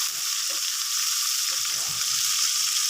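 Onion, ginger and crushed garlic fry in hot oil in a pan, a steady close sizzle throughout with a few soft stirring scrapes underneath.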